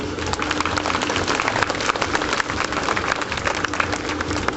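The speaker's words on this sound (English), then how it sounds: "Give a round of applause." A crowd at a UK sea lion show applauds in a dense, steady patter that holds at an even level throughout, with no break.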